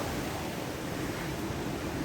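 The Triberg waterfalls and river in the Black Forest make a steady, even rush of falling water, a broad hiss with no breaks or voices, moderately quiet as if heard from a short distance.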